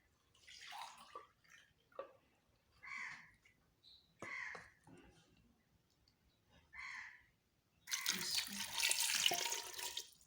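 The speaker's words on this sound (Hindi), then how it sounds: "और ये 1 कप पानी डालना है।" Water poured from a cup into a cooking pot of chickpeas with ginger-garlic paste, a brief splashing gush near the end after sparse, quiet kitchen sounds and pauses.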